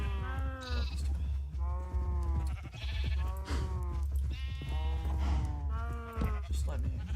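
Minecraft sheep, including baby sheep, bleating repeatedly in wavering, nasal calls, several close and loud bleats overlapping in quick succession over a low steady hum.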